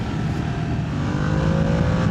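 A 2025 Ducati Panigale V2 S motorcycle engine drones steadily and fairly loud, a continuous running roar with a slowly rising tone and no pauses or talk.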